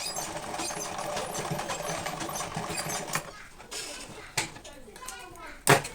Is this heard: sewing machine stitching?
yes